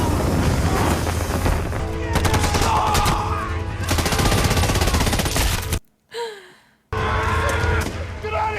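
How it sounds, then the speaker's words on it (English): A film battle erupts with an artillery strike and heavy gunfire, dense sustained blasts and rattling shots, broken by a brief near-silent gap, with shouting voices over the din. "I call an artillery strike!"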